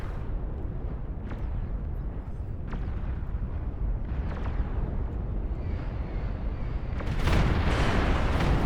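A superweapon in a huge real-time strategy game fires a volley of projectiles into the sky: a loud, dense rumbling roar with scattered booms that swells sharply near the end; no voices are present.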